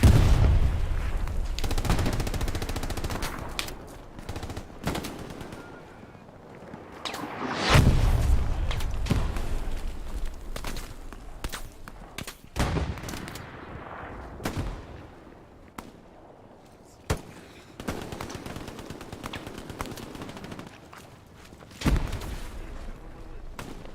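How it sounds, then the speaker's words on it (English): Video game gunfire crackles in sharp bursts and single shots, some loud and close, others fainter, with heavy booming blasts mixed in. Firing comes in scattered clusters with brief lulls, and a voice speaks at times. "Who are we shooting at?"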